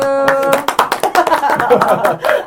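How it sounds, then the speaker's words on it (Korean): A short burst of hand clapping, close and fairly loud, with quick uneven claps and a brief murmur of voices. "박수"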